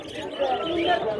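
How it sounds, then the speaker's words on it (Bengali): Pigeons at a crowded bird market coo and call in a dense, continuous murmur close by, with no clear gaps. "এখানে কবুতর দেখতে পাচ্ছেন, অসংখ্য কবুতর, গোল্লা কবুতর"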